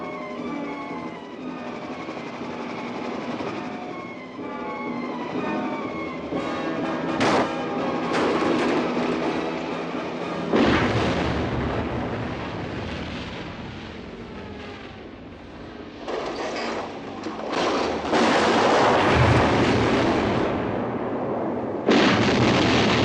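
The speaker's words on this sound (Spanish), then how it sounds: "la escena más espectacular de la película, la explosión marítima" A big movie explosion scene at sea from a James Bond film plays with loud, dense rumbling blasts and roaring bursts that swell and recur throughout, with sharp cracks punctuating a sustained heavy roar.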